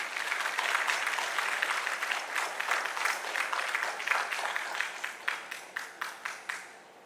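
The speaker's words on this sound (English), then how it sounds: "A round of applause for him as he comes to us." An audience applauds a speaker arriving at a celebration-of-life requiem service, a dense, steady round of clapping that thins into a few separate, distinct claps toward the end.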